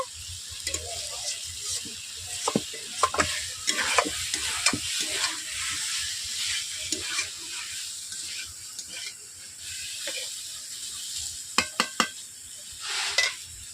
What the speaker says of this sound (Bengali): সবজিগুলোকে আমি কষিয়ে নিয়েছি ভালোভাবে দেখতেই পাচ্ছেন তেল চলে যাচ্ছে